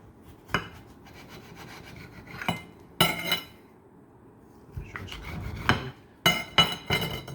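Knife cutting a chickpea walnut wrap in half, a few sharp crunching cuts and soft scrapes against a cutting board, separated by short quiet pauses, close and clear with no talking.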